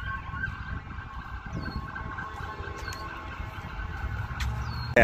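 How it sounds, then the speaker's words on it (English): Emergency sirens wail in the distance, rising and falling over a steady low street hum outside an abandoned restaurant in Battle Creek, Michigan, with no talking. "I wanted to wait a moment for those sirens to kind of go away"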